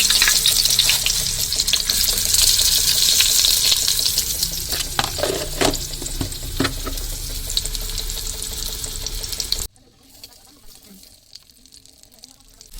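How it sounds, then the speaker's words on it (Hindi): Shami kebabs sizzling in hot oil in a home kitchen pan, a steady loud hiss with scattered crackles, then a sudden drop to near quiet. "आज मैं शामी कबाब फ्राई करूँगी नाश्ते में।"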